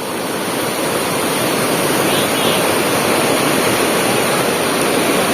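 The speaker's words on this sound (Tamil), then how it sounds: "அதிக அளவில் உபரி நீர் வெளியேற்றத்தின் காரணமாக நிறைய தண்ணி போகுது அழுத்தம் அதிகமாக இருக்குது" Surplus water rushing out of a village pond at high pressure, a loud, steady, broadband roar like a waterfall, continuous and close with no voices.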